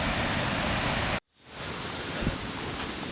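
Steady broadband rush of water from a waterfall, continuous and fairly loud, cutting out briefly to near silence before the roar swells back.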